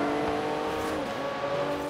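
A Porsche Turbo S engine in Forza Horizon 3 drones steadily at a sustained pitch, heard from inside the cabin. The tone is loud and continuous with a slight rise near the end.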